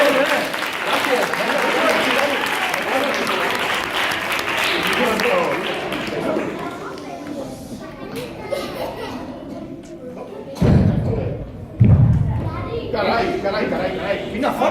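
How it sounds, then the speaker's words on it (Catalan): Audience applause for a child at a live family show, a broad wash of clapping and crowd noise filling the first half, fading under chatter and children's voices, with a couple of brief louder bursts near the end. "Ramon, un aplaudiment per al Dani."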